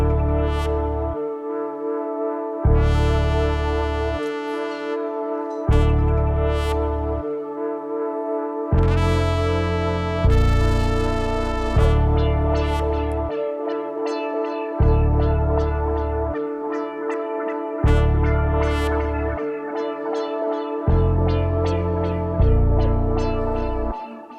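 Dark sample melody loop built in FL Studio, with loud layered melodic chords and a heavy low bass that drops out and returns in a steady repeating pattern, no voices.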